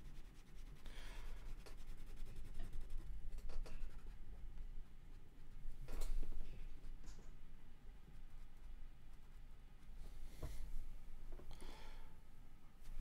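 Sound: drawing on paper by hand

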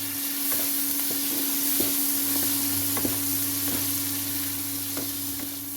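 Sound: shrimp frying and being stirred in a pan

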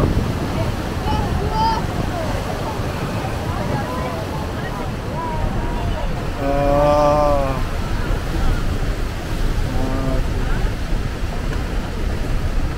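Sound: waves and water at the Rhine Falls

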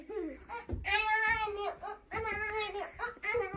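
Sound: child imitating a cat's meow

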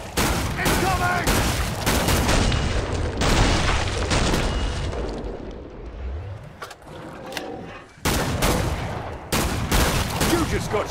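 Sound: gunfire from shooting zombies in video game Killing Floor 2

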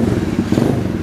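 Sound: Symotos 110 mini trail motorcycle engine starting

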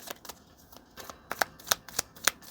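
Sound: oracle cards being shuffled

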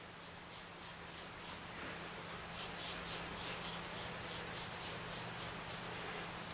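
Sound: sand being rubbed into carpet

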